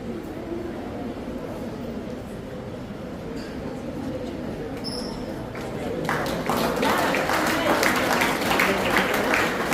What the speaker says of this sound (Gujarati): તાળીઓના ગદગદાથી આ સિદ્ધિને આપણે બિરદાવીશું.